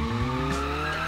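A drifting car in BeamNG.drive, a modified vehicle with the front engine and drive wheels, gives a steady tonal tire squeal over a low engine drone, continuous and fairly loud for about a second.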